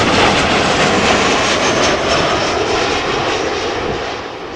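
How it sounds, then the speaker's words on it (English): A KLM Boeing 737-800 in the old livery, arriving from London Heathrow, lands at Amsterdam Schiphol, its loud, close jet engine roar gradually fading as it moves away, with no voices present. "737-800 arriving from London Heathrow, KLM flight 1008"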